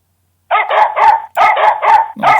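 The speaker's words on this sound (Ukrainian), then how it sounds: "у нас буде починати наша собака зараз буде гавкати" A LEGO Mindstorms robot plays a dog-bark sound, a quick series of five or six sharp, close barks after a moment of silence.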